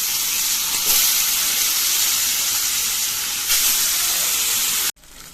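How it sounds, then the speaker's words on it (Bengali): Fish fry in hot oil with a steady, loud, close sizzle that holds nearly unbroken, swells briefly twice, and then cuts off abruptly near the end. "বাকি মাছগুলো ভেজে নিচ্ছি।"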